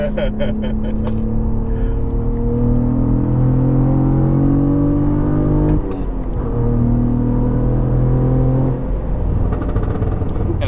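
A stock Cadillac CT4-V Blackwing's engine revs loud and close from inside the cabin, with a steady droning exhaust and a sharp burst near the middle. People talk over it.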